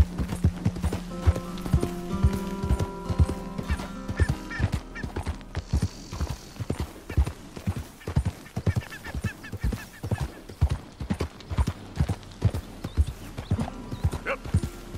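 Rhythmic hoofbeats clip-clop at a steady gallop throughout in Red Dead Redemption 2, with a horse's whinny early on and faint bird calls in the background.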